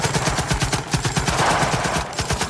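Rapid automatic gunfire, a dense, loud burst of machine-gun shots in steady fast rhythm, continuous for a few seconds with a faint reverberant wash behind.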